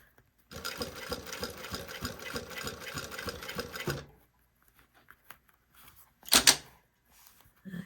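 A sewing machine runs for a few seconds with a rapid, even clatter as it stitches a zippered pocket, then stops and gives way to quiet handling clicks and a sharp rustle.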